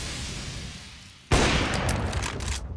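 Counter-Strike gunfire bursting in suddenly after a steady background hiss, a loud close volley of rapid shots that continues to the end.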